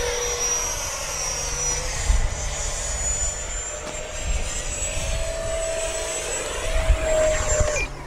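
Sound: FMS Rafale RC jet with KMRC afterburner flying past

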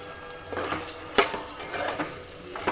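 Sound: stirring tomato chicken curry with garam masala in pan

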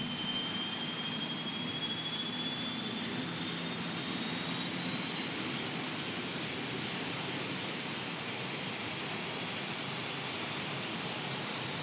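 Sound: helicopter taking off into the evening sky

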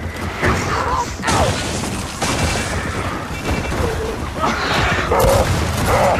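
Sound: gunshots in the video game Gears of War 4

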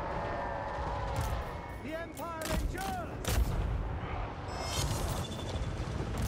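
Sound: handgunners firing guns in Total War Warhammer 3 video game

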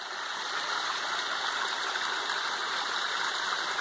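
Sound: stream of water flowing down from the mountain

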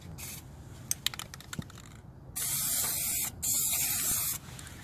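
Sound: spray paint sprayed through a tire stencil

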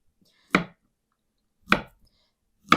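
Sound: slicing bananas into rings

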